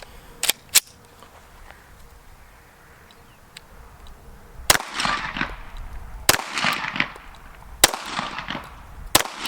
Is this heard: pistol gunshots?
yes